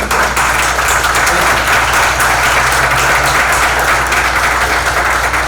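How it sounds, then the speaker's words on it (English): Loud, sustained applause from an outdoor crowd at a groundbreaking for a new hospital in Lower Macungie, honoring the construction partners, steady dense clapping with little talk. "Give them a round of applause."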